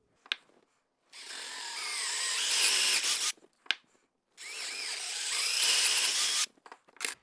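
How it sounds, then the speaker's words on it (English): A power drill bores into a 4x4 wooden post for a carpenter bee trap: two sustained whining, grinding runs of about two seconds each, separated by sharp clicks and brief handling knocks. "Don't keep drilling or you'll drill all the way through."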